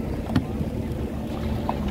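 A speedboat runs on open water ahead of a parasailing ride, giving a steady, loud wash of engine, water and wind noise with a brief knock near the start and no speech.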